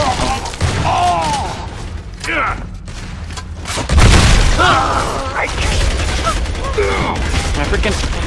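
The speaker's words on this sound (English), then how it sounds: "Throwing grenade!" Grenade blast in a shooter video game, a heavy boom landing midway through amid rapid gunfire and mechanical clatter, with someone shouting excitedly over the action.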